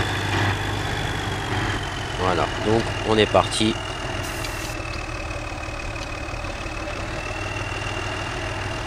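A large farm tractor readied for soil preparation before sowing runs at a steady idle, a constant close-up engine drone with a thin high whine, while someone speaks French briefly over it early on.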